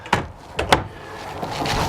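Pocket door into the bedroom of a 2019 Heartland Bighorn 3870 FB fifth wheel RV, heard as a few sharp knocks and bumps followed by a brief sliding rumble, close and fairly loud in a quiet interior.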